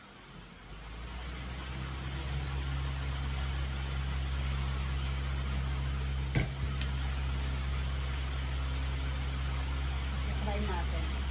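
Electric fan running on its strongest setting, a steady close whooshing roar of moving air with a low hum, constant throughout apart from one brief sharp click midway.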